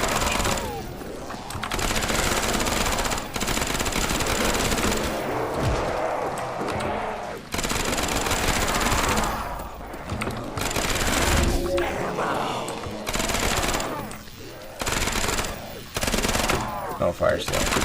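Rapid gunfire from a weapon in the video game Project Aether, bursting loud and near in repeated volleys across the clip with short gaps between them, mixed with other game noise.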